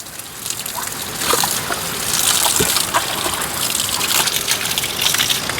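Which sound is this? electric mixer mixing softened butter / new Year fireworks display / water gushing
water gushing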